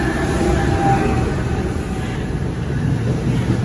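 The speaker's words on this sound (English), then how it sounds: "This is the ALP-45A engine that I was referring to, New Jersey Transit's newest locomotive" New Jersey Transit ALP-45A locomotive rumbling past at close range, a steady loud low roar of engine and wheels with a faint high whine, continuous throughout.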